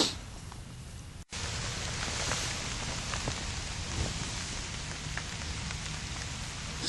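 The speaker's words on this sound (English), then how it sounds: "Still raining." Steady rain falls at dawn on a natural shelter during a solo overnight stay, a dense continuous patter of drops with one brief break near the start, close and moderately loud with no talking.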